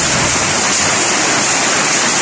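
Hail falling heavily during a rainstorm in Leticia, Amazonas, a dense, steady roar of ice pellets striking surfaces, loud and continuous with no pauses.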